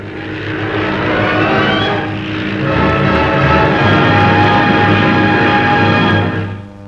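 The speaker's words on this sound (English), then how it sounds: "A 25 horsepower engine gives the two-seater plane a speed of 60" A two-seater light plane with a 25 horsepower engine drones loudly and steadily for several seconds. The pitch dips briefly near the start, then the engine holds a constant tone before easing off at the end. No one speaks.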